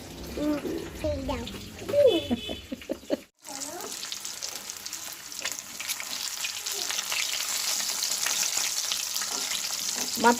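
Pomfret (folui) fish fries in oil in a pan with a bright, continuous hiss and crackle that swells after a brief voice and a short pause at the start.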